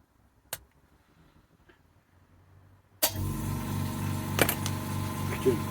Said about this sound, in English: the compressor is going to go off right in the middle of my video